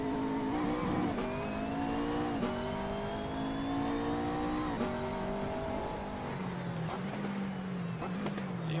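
A GT race car in Assetto Corsa revs hard around the Nürburgring Nordschleife, its engine note climbing and dropping repeatedly through gear changes, loud and close throughout.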